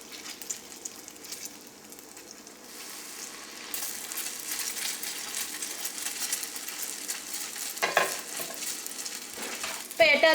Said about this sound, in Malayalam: ഈ അച്ച് ചൂടായ എണ്ണയിൽ തന്നെ വെക്കാം